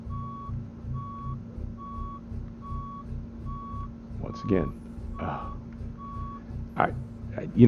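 A truck in American Truck Simulator backs up while maneuvering, its reversing alarm beeping in an even, repeated rhythm at moderate level, with someone talking over it and brief air-brake hisses and clunks near the end.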